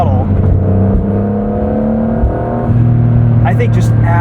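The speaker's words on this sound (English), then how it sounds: "you can hear the turbocharger and a bit of blow-off valve noise off throttle" A 2025 Porsche 911 GTS (992.2) engine hums steadily from inside the cabin, its pitch shifting under throttle, with a short whooshing release near the end. Someone talks over it the whole time.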